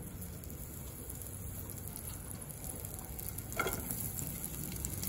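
Onion frying in a little oil in a kadhai for kadhai paneer gives a steady, close sizzle and crackle throughout, with a brief clatter of a utensil partway through.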